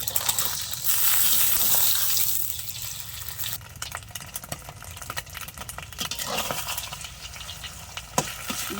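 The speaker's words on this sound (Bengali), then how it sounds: "প্রথমে ডিমটা ভেজে নেব।" An egg fries in oil in a pan with a loud, steady sizzle at first. Scraping and clinking of the utensil follow as the egg is broken into small pieces.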